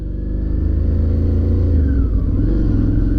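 A 2012 Suzuki DL650 motorcycle pulls away up close, its engine note climbing and shifting as the loud, steady rumble carries on with no speech.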